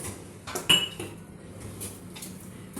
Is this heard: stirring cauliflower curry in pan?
yes